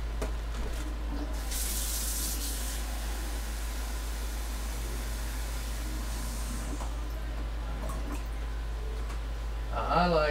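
Tap water pouring into a cooking pot for Thanksgiving stuffing, a steady rushing stream under a constant low hum that shifts near the end.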